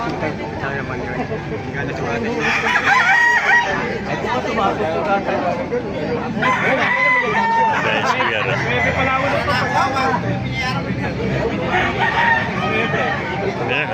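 Roosters crow repeatedly over a noisy crowd of chattering people at a market in Baliuag, the calls rising above the steady babble of voices.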